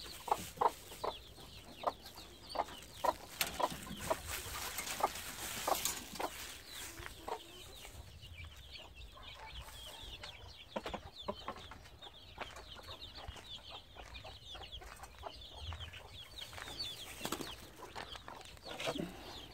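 Chickens cluck in short, scattered bursts on a rural farm where a hen raised a three-week-old pheasant chick, fairly quiet and close, with repeated soft calls throughout.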